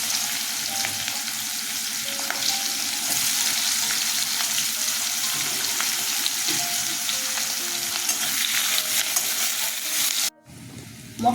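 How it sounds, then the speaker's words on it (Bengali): Cumin seeds and onion sizzle in hot oil in a pan as the tempering for moong dal with fish head, a steady close crackling fry with occasional stirring scrapes before an abrupt cut near the end. "একটু জিরে ফোড়ন দিয়ে দিচ্ছি। পেঁয়াজ ফোড়নে দিচ্ছি।"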